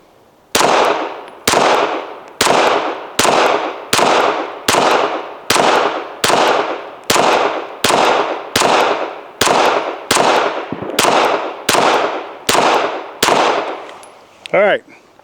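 Pistol gunfire from an FN 509T and a Beretta emptied from full magazines, a loud, close string of about fifteen evenly spaced shots roughly every second, ending in a brief metallic ring.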